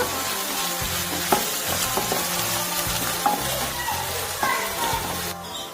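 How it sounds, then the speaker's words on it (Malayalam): Crushed ginger and garlic sautéing in a pan for pepper chicken, a continuous close sizzle with periodic stirring scrapes and a voice faintly in the background. "ഇനി നന്നായിട്ട് ഇതിന്റെ പച്ചമണം മാറുന്ന വരെ നന്നായിട്ട് തന്നെ മുപ്പിച്ചെടുക്കുക"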